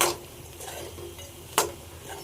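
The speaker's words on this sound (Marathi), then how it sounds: "फरसाण आपण खालीवर करूया या मसाल्यामध्ये।" A spoon scrapes and stirs farsan through masala in a pan over a faint sizzle, with a clank at the start and another sharp metallic knock partway through.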